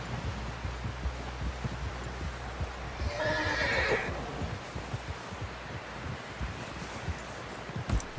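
A horse in the video game Red Dead Redemption 2 whinnies once, loud and close, a shrill neigh lasting about a second amid steady background rumble and faint thumping.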